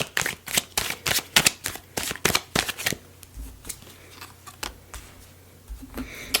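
A tarot deck is shuffled in quick riffling bursts for about three seconds, followed by quieter scattered card taps and slides as a single card is drawn, close and clear.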